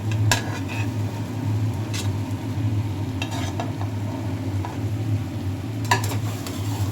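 Chicken pieces for dry chilli chicken land in a hot pan and fry with a steady low sizzle, broken by a few clinks and scrapes of a spatula against the pan, no talking.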